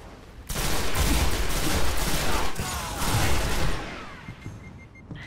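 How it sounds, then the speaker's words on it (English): Rapid shotgun blasts ring out in a Destiny PvP match, a dense burst of booming shots running for about three seconds before tapering into scattered quieter pops. "They're all using shotguns now."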